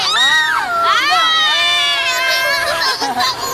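People scream and shout loudly together on a Viking swing amusement ride, high voices rising and falling in long continuous yells with crowd noise throughout.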